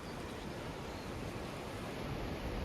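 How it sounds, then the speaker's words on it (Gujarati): A steady, dense roar of sea waves, continuous and broad, with no breaks or voices. "કેવું મસ્ત નેક્સ્ટ લેવલના મોજા થયા"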